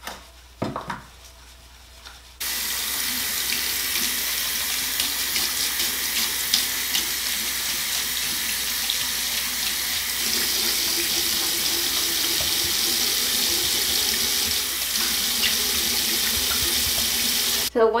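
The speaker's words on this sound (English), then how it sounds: "So once you rinse it off right here with the water" Tap water runs steadily into a sink while a makeup brush is rinsed after shampoo cleaning, a continuous close splashing hiss that starts abruptly after a short quiet opening and carries on alone.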